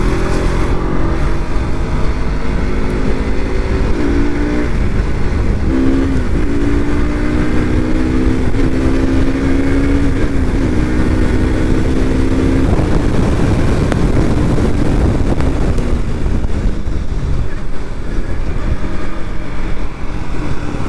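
A motorcycle on a road ride from Patna to Rajgir rushes along at speed, with continuous loud wind buffeting and engine drone that shifts pitch as it accelerates, and no talking.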